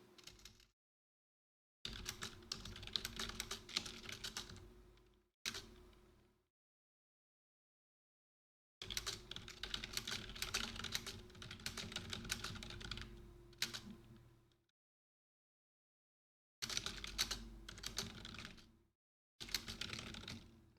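Rapid clattering keystrokes on a computer keyboard in several bursts, separated by short silent pauses, close and fairly loud.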